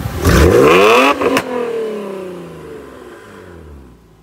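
A rare Subaru car revs hard: a loud, rising engine roar for about a second, a quick stutter, then a long falling whine as the revs die away to a quiet idle.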